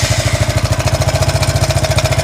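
The small engine of a Honda machine that a previous owner couldn't get running fires up close to the microphone and runs in a loud, fast, regular chugging rhythm with a rough, knocking pulse throughout.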